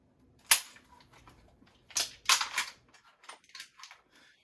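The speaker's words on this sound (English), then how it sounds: "here is a weak hand reload" Weak-hand reload of a 940 JM Pro shotgun: a sharp metallic clack, then a cluster of quick clicks and snaps as shells are pushed into the tube, close and crisp with no talking.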